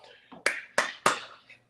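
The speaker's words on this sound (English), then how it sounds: "I'm clapping to you" Hands clapping in a short burst: four sharp, evenly spaced claps close to the mic, with a softer tap before them.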